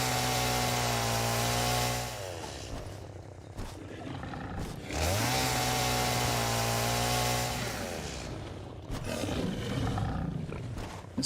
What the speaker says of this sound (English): I am going to chainsaw a little bit while I'm here